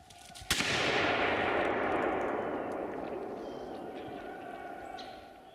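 A single sharp rifle shot fired at a wild boar during a hunt cracks out loud and close, then rolls away in a long outdoor echo that fades over several seconds.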